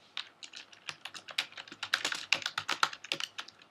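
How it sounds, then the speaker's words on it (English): Rapid, uneven keystrokes clatter on a computer keyboard, a dense run of sharp close clicks at fairly low volume with no talking. "That's why you hear the keyboard noise in the background"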